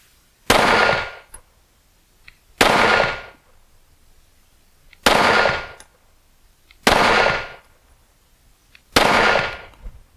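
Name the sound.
handgun firing a 5-round group at 12 yards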